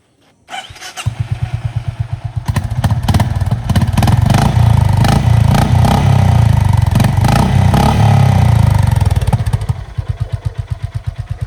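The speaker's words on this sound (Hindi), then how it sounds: "पहले मैं आपको सुनाता हूँ RS का CB350 का एग्जॉस्ट नोट जो स्टॉक है एकदम।" A stock Honda CB350RS motorcycle starts and idles with a thumping exhaust, then revs loudly and steadily for several seconds before settling back to a lumpy idle, heard close up with no talk.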